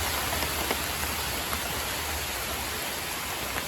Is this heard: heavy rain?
yes